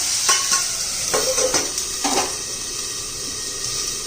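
Diced potatoes and capsicum sauté in hot oil, with a steady close sizzle throughout and a few scraping stirs near the start.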